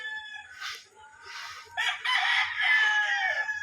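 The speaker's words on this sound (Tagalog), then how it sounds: "Daming manok mga boss eh." Roosters crow and hens cluck in a straight-breed gamefowl yard with spangle and white claret birds, several calls overlapping close by, the crowing swelling louder toward the end with no talk.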